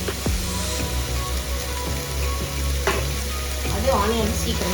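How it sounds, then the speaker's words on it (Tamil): Onions sauté in hot oil for a duck curry, sizzling loud and steady up close, with occasional scrapes and knocks of a spoon stirring the pan. "அது ஆனியன் சீக்கிரமா வதங்கிறது."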